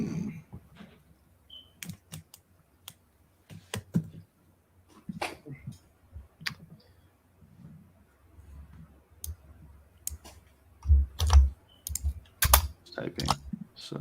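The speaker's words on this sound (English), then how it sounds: "Typing." Keyboard typing in a quiet room, sharp scattered key clicks arriving in irregular bursts, with brief low thumps and a faint voice now and then in the background.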